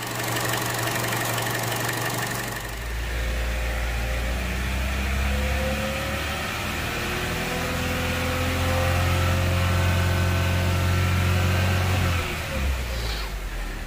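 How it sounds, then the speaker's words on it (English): A Chevy Cruze 1.4 engine starts and settles into a steady, rumbling idle that runs continuously at close range, with a slight rise in pitch near the end. "Just gonna have to start up the engine again."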